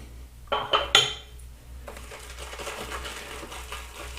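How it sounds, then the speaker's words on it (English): A shaving brush is loaded with Captains Choice "Venture" shaving soap: a few sharp clinks and knocks come first, then a steady, close, soft swishing and scrubbing as the brush swirls over the soap. "I'm going to load a little bit more soap"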